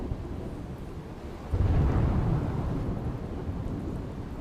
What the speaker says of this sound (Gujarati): પાટણ જિલ્લામાં ધોધમાર વરસાદ વરસ્યો।